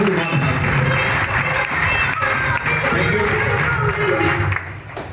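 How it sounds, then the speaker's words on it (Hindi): Loud, sustained applause and cheering from a large crowd at a live event fill the whole stretch, dense and close, with shouting voices mixed in and a slight dip near the end. "हम चाहेंगे उन सब के लिए जोरदार ताली"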